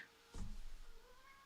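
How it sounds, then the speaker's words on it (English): A small cat gives one tiny meow indoors at a house. The single short call is brief and fairly close, with faint room noise around it. "Tiny meow."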